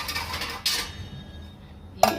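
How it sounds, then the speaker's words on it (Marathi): A steel pressure cooker pot, holding kharvas for steaming, is covered with its lid, giving two sharp metallic clinks about a second apart in an otherwise quiet kitchen. "तर हे जे कुकरचं भांडं आहे ते मी आता बंद करून ठेवणार आहे"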